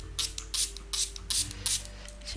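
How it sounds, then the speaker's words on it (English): Five quick bursts from a spray bottle mist water over watercolor paints, each short hiss evenly spaced and close in a quiet room. "I need to spray some water over my paints so that I could activate them."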